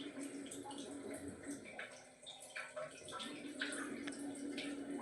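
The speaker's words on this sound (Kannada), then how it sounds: "ಫ್ರೈ ಆಗಿದೆ, ನೋಡ್ತಾ ಇರ್ಬೋದು ಸೈಡಲ್ಲಿ ಕುದಿ ಬರ್ತಾ ಇದೆ" Sambar made with hichukida bele (peeled field beans) boils in a pot, giving a steady bubbling, gurgling simmer with a low hum throughout and a brief dip in level midway.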